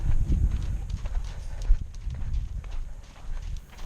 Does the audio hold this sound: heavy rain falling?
no